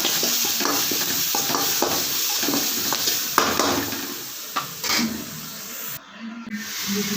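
Ground garlic, green chilli and coriander paste frying in oil in a pan for an egg palak curry, a continuous close sizzle and hiss with repeated scraping stirs and light clinks of the utensil, fairly loud, with no voices.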